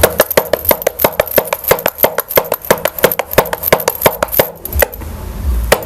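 Dough for village-style bhakri is patted flat by hand, a brisk, steady run of sharp close slaps in quick rhythm that stops near the end, leaving quiet kitchen noise.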